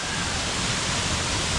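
A waterfall on Lombok in the dry season, taller and fuller than expected, gives a steady, dense roar of falling water heard up close with no voices.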